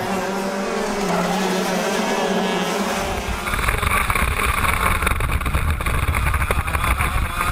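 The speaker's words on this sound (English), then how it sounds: "A final round of heat racing in the morning kicked off the final day of this year's Streets of Lancaster" Race cars roar through a street circuit heat race at the Streets of Lancaster, a steady loud engine drone that grows denser and louder partway through as more cars pass close by, with no talk.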